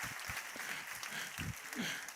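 A church congregation applauds during a sermon, giving a soft, diffuse wash of clapping with a few distinct louder claps, heard from a distance.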